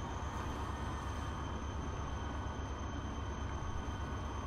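Diesel trains racing in the Transport Fever game, a steady loud rumbling engine and rolling drone that holds constant throughout without breaks.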